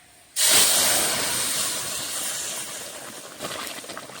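Mixed vegetables for a dal and vegetable curry hit hot tempered oil with an abrupt, loud sizzle that settles into a steady hiss and slowly eases off; no one speaks.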